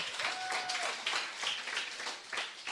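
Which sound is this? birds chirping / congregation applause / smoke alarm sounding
congregation applause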